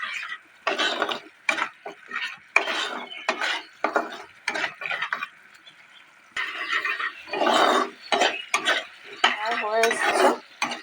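A utensil stirs salt and turmeric into a spice mixture in a pan, giving repeated bursts of scraping and clatter separated by short pauses, fairly close and moderately loud.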